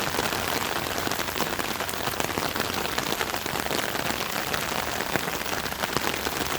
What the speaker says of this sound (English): Love the sound of the raindrops coming down